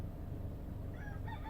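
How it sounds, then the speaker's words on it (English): A rooster crows faintly in the distance, a brief high call rising over a steady low background hum. "This rooster is distracting me."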